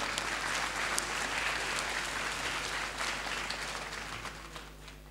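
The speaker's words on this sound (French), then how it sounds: "je vous demande d'applaudir très fort" Audience at a school awards festival giving loud, sustained applause for a coordinator and director, a thick continuous roar of many hands with a few sharper claps, tapering slightly toward the end.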